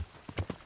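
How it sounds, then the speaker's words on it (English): A horse in Kingdom Come: Deliverance lands with three quick hoof thuds close by, fairly faint, ending a jump. "This horse has some hops."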